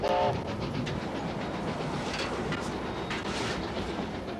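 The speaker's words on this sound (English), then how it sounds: "The main trunk special is leaving Auckland bound for Wellington, the first steam train on the line for nearly 20 years." The Main Trunk Special steam train pulls out of Auckland bound for Wellington, a steady loud rumble of wheels and carriages with a brief whistle-like tone at the start, heard up close with no talking.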